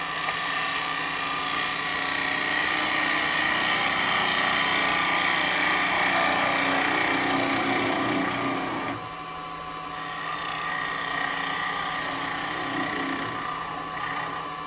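A traditional turning tool cuts an ash bowl on a wood lathe, giving a steady, loud whirring hum with a continuous scraping hiss that eases briefly near the end.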